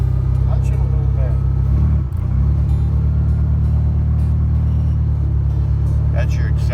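A 1972 VW Beetle with an Autostick semi-automatic gearbox pulls away in first gear, its air-cooled engine giving a loud, steady low rumble that dips briefly and then resumes, with faint chatter in the background.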